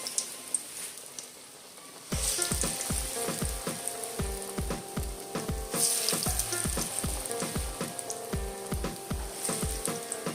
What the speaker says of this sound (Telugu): ఇప్పుడు ఆయిల్ వేడైంది, కొంచెం సిమ్లో పెట్టుకొని ఇప్పుడు ఈ వడల్ని ఆయిల్లో ఒక్కొక్కటి వేసుకొని